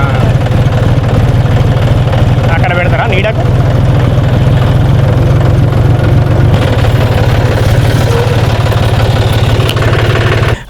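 A tractor engine idles on a vegetable farm, giving a steady, loud, low throbbing rumble that runs throughout while people converse close by.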